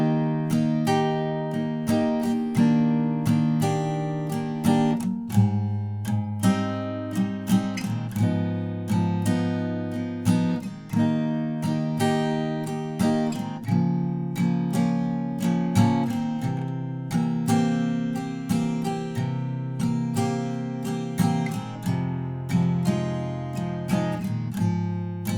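Acoustic guitar strums the chorus chords of a song in a steady repeating pattern, close and clear, with no voice over it.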